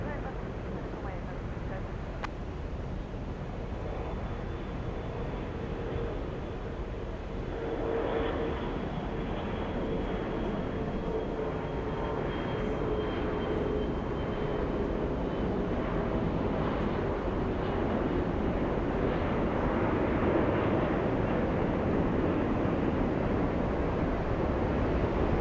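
A Delta airliner takes off from a runway at Atlanta's Hartsfield-Jackson airport, its distant engine roar swelling and rising steadily, with wind buffeting and a person talking over it.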